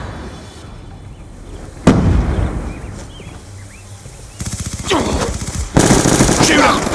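HAMR light machine gun firing in Black Ops 2, loud rapid bursts of automatic fire starting near two seconds and returning in longer sustained strings later, with brief voice chatter in the background.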